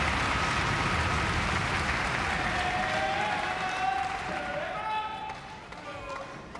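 Arena crowd at a 2007 ITTF World Tour French Open table tennis match between two players breaks into sustained applause that gradually fades, with a commentator's voice faintly audible over the clapping.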